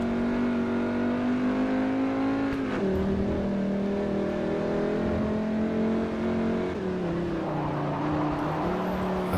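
Engine of a Fiat in the racing game Forza Motorsport 4 holds a steady, droning rev, dipping in pitch twice as gears shift, loud and continuous with no talk.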